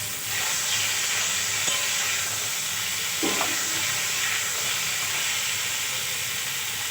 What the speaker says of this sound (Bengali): আমি কত সুন্দর করে ফুলকপিগুলো ভেজে নিয়েছি